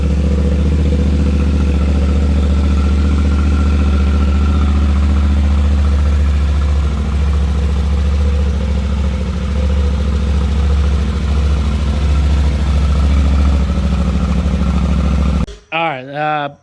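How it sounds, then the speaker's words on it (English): Yamaha Tenere 700 motorcycle on its stock exhaust idling steadily after a cold start, a low, even and fairly quiet rumble held close for most of the stretch, ending in a brief burst of other noise. "Cold start, stock exhaust."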